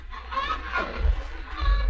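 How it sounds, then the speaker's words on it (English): Chickens cluck as a sound effect in a 1940s radio drama, a few short, close clucks and squawks in quick succession. "Quiet, you gall-blasted chickens."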